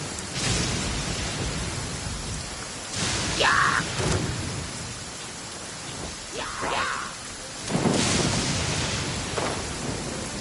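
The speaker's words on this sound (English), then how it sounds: "I always get so gloomy when it rains." Steady rain hisses with low rolling thunder in the video game Genshin Impact, a continuous wash of weather sound. Brief bursts of voice rise over it at a few points.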